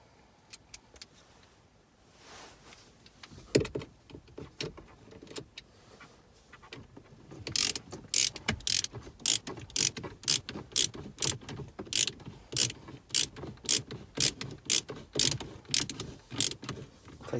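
A ratchet drives fairly long screws during a BMW F20/F21 1 Series upgraded 8.8-inch screen install, starting with slow scattered clicks, then a long steady run of rapid, evenly spaced ratcheting clicks, close and fairly loud, with no talking.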